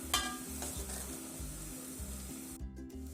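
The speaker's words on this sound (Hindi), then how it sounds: "ये हमारी सब्जियां जो है पक रही हैं।" Chicken and vegetables for soup bubbling and cooking in a pot, with a continuous close sizzle and frying hiss over a low, steady background.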